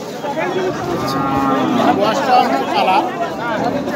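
Cattle at a village livestock market, with low bovine calls and lowing sounds rising over a dense murmur of people talking nearby, a busy outdoor crowd filling the background throughout.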